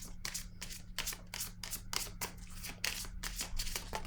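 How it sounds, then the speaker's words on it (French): Oracle cards are shuffled and drawn from a deck, giving quiet, repeated papery flutters and riffles in quick bursts, close and soft, with no speech over them. "J'ai le goût de piger une carte rose pour cette zone."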